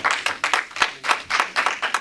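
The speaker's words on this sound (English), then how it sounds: "Clap." A small audience claps at a stand-up comedy show, about eight distinct, evenly spaced claps in a steady rhythm, close and crisp, with no voices over them.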